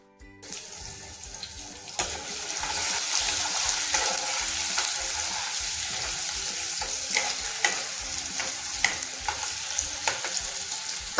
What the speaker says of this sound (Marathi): कांद्यालाही चांगलं तेलामध्ये परतून घ्यायचं आहे.